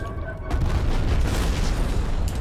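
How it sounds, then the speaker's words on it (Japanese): Airstrike explosions boom in a multiplayer match of Call of Duty: Black Ops Cold War, a heavy rumbling blast that erupts after a brief lull and rolls on loudly as a dense, sustained roar. "まあちょっと空爆があるんで"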